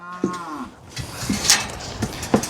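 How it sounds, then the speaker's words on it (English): Several low, drawn-out cow moos come in close succession on a farm, fairly near and loud, with faint outdoor background between calls. "we might have to let the cows through"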